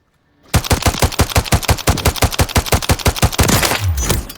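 G36 rifle firing rapidly in Call of Duty Modern Warfare III: a loud, steady burst of around thirty crisp sharp shots in quick rhythm, each one close and punchy, ending in a brief mechanical tail.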